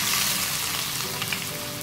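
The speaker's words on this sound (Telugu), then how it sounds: "ఇందులో 1 కప్పు సన్నగా తరిగిన ఉల్లిపాయ ముక్కల్ని వేసుకుందాము" Finely chopped onions hit hot peanut oil with a loud, dense, continuous sizzle, close and unbroken, with no voice over it.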